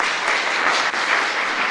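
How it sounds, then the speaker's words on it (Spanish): A chapel congregation applauds during a novena service for San Luis Gonzaga, a dense, loud wash of many hands clapping continuously, steady and close. "Un fuerte aplauso para todos"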